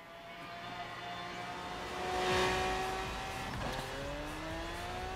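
A car engine drones and shifts pitch as it drives in the open-world racing game Forza Horizon 3, rising to a louder whooshing swell midway before settling into a steady hum, with no talking.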